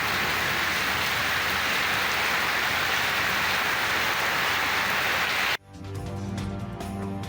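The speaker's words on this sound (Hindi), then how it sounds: "पंजाब के मुख्तलिफ शहरों में मुस्तदर बारिशें" Heavy monsoon rain pours down in a dense, steady roar of hiss with no breaks, loud and close, before cutting off abruptly to other sound near the end.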